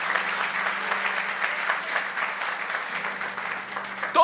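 A church congregation applauds loudly for God during a sermon, steady dense clapping throughout with a low hum underneath, close and continuous.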